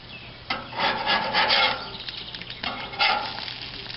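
Small metal spatula scraping across a gas grill's cooking surface in steady back-and-forth strokes, close and fairly loud, two bursts of rasping separated by a short pause.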